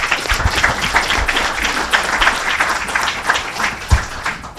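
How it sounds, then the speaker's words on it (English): A room of audience members at an authors' coffee applaud the panelists with loud, steady clapping from start to finish. "thank you for that round of applause for our wonderful panelists"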